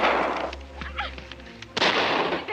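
A pistol fires in an action scene: loud sharp bursts at the start and again near the end, with a quieter stretch between carrying faint movement.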